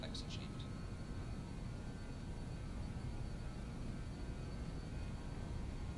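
Engines of a JustFlight BAe 146 airliner in Microsoft Flight Simulator 2020 drone at takeoff power, a faint, steady low roar with a thin whine above it and a few short higher blips at the start.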